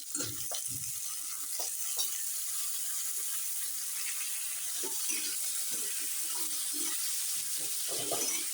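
Potato slices sizzling steadily in a pan with green chili and cumin on low heat, a continuous fine frying hiss with a few clinks and stirring sounds, no talking.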